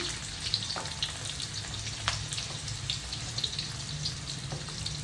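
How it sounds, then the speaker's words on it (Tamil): Chopped onion and three green chillies frying with fenugreek seeds in hot oil for a rock fish curry, a constant close hissing sizzle with faint crackles and no talk. "வெந்தயம் நல்லா பொரிஞ்சிருச்சு வெங்காயம் பச்சை மிளகா நான் ஒரு மூணு பச்சை மிளகா போட்டிருக்கேன்"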